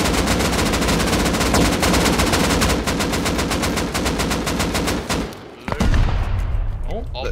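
Intense, continuous rapid gunfire during a raid in the game Rust, dense overlapping shots from semi-automatic weapons close by that thin out into a few scattered shots and a heavy thump near the end.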